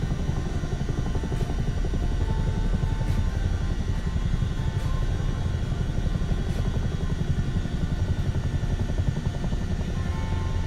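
A CH-47 Chinook in Microsoft Flight Simulator 2024 keeps up a constant loud rotor and turbine drone, an even throbbing beat with no voices over it.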